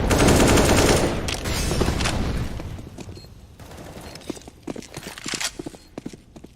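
Gunfire in a Counter-Strike match on the Mirage map, with a dense burst of rifle shots up front giving way to scattered shots, footsteps and clattering game sounds.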